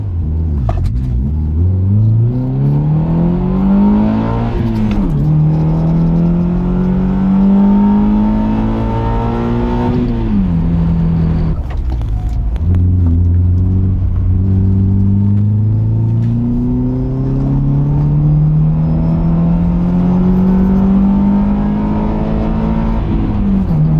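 A Subaru Impreza engine, freshly rebuilt with resurfaced cylinder heads, revs hard again and again on a road test, each loud run rising in pitch then dropping with the gear changes, a close, steady drone with no talking.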